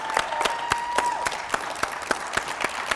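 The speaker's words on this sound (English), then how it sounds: "let's give him a round of applause here," A convention panel audience applauds for a guest coming up to the stage, with scattered claps standing out above a moderate ongoing patter of clapping.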